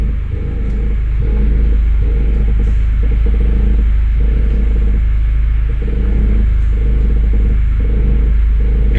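A 2004–2008 Honda Fit with a faulty front strut mount gives off a steady low rumble while the steering wheel turns, with faint repeated clunks and creaks over the hum, close and continuous.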